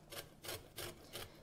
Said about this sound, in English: when you're grating an orange